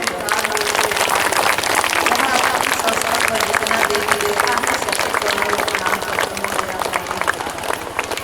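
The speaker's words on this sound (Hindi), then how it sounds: "ताली बजा के स्वागत करें इनका" A crowd at a Shiv Charcha bhajan gathering claps steadily to welcome a guest, dense rapid clapping throughout while a voice speaks over it.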